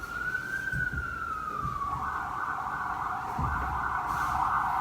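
An ambulance siren sounds outside, its steady tone gliding and then holding a sustained wail that grows slightly louder toward the end, moderately distant and without any talk over it.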